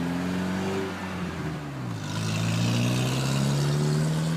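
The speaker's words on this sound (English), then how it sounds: "Why does that punch buggy sound like a freaking truck?" A Volkswagen Beetle engine revs loud and close, its low drone rising in pitch and swelling like a heavy truck's as it accelerates, with no talking over it.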